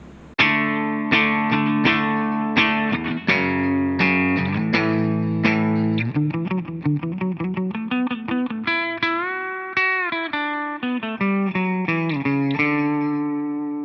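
An electric guitar through an MXR Custom Badass '78 Distortion pedal, all knobs at 12 o'clock, plays power chords and sustained notes with heavy distortion, strummed rhythmically with ringing, effect-laden tone.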